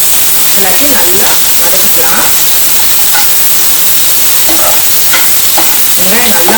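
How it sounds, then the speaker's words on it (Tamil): Two large onions sauté in oil in a pan for a chicken and sweet potato gravy, hissing and sizzling loudly and steadily while being stirred, with a faint voice now and then. "எல்லாத்தையும் நல்லா வதக்கிக்கலாம்"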